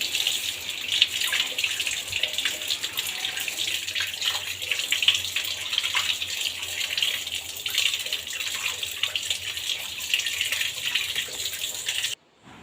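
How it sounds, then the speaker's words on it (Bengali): A large mango is washed under a running kitchen tap, a steady broadband rush of water splashing over the fruit that continues without pause for about twelve seconds before cutting off. "আমটাকে এবার ভালো করে ধুয়ে নেব।"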